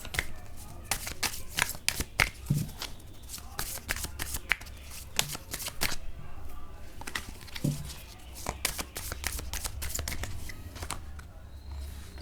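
Tarot cards are shuffled by hand in a steady run of crisp riffling bursts and soft slaps, close and clear, lasting several seconds.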